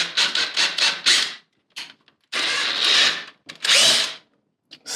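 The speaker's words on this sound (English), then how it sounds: "I'm also putting the screw in the combi drill as well" A combi drill whirs in short repeated bursts, then runs in two longer pulls as a screw is driven into a wall, with brief pauses between.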